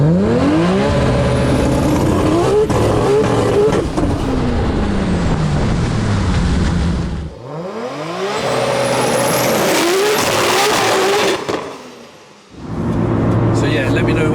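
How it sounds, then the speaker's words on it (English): Nissan Skyline R34 GTR engine revving hard and loud, with rising and falling pitch sweeps as the turbo spools and whooshes in; two short dips between bursts, with a voice talking over parts of it. "I do love it when the turbo kicks in"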